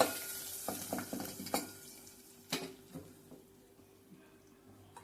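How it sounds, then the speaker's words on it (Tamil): Sizzling tempering poured into ridge gourd kootu crackles with a few sharp pops and soft stirring clinks, fairly quiet and settling into a low fizz. "இது தாளித்து போட்டாச்சு"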